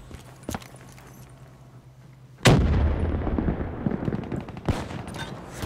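A mobile artillery strike in Call of Duty Black Ops III lands as a sudden loud blast, followed by a sustained rumbling barrage of explosions and debris, with scattered gunshots earlier.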